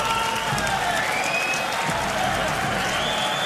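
Loud, dense crowd applause and cheering fill a boxing arena after a fight, a continuous roar with a commentator's voice running faintly beneath it.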